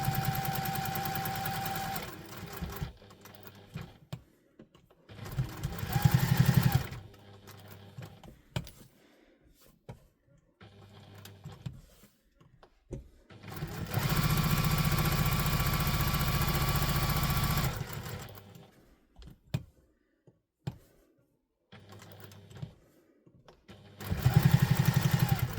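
A sewing machine basting and stitching around a fabric wallet, running in bursts of steady mechanical whirring with pauses between them, including one long continuous run, heard alone without talk.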